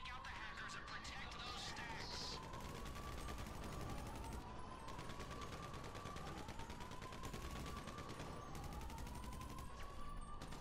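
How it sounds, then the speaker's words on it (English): Rapid, repeated gunfire from someone shooting in GTA 5 during the Doomsday heist, bursts rattling steadily throughout amid mechanical clatter, with voices talking over it. "There's someone shooting around that corner, though."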